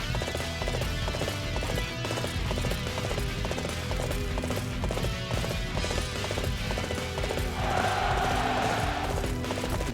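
A horse gallops in the Dynasty Warriors 8 video game, its hooves clip-clopping in a steady rapid rhythm over a dense, loud layer of battle noise and music, with a brief brighter tone late on.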